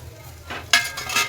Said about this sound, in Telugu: ఇందులో కొబ్బరిని తురిమి పెట్టాను అండ్ ఈ కొబ్బరి తురుము కూడా యాడ్ చేసేద్దాం